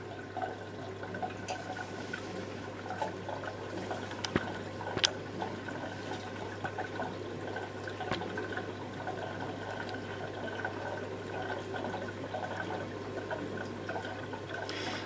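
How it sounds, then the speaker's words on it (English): An LG WM14225FD washing machine from 2006, set to a 60C cotton cycle, fills with hot water from the supply, a steady low hum and trickling flow with occasional clicks and drips throughout. "And now you hear it taking in the hot water from the hot water supply."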